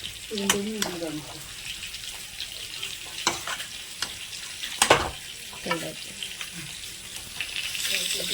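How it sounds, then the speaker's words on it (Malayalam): Chicken curry being stirred in a pan, with intermittent scraping strokes of a spoon over a soft sizzle and a few watery clinks, close and moderately loud. "അപ്പൊ നമുക്ക് നന്നായി ഒന്ന് ഇളക്കി കൊടുക്കാം"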